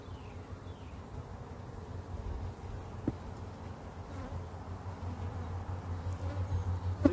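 Honey bees buzz around an open hive infested with hive beetles, a steady close hum of many insects with individual bees zipping by, a brief knock near the middle.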